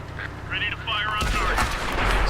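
Tank cannon fire in World of Tanks during a North West map match, a sudden loud blast midway that leaves a sustained booming roar behind it.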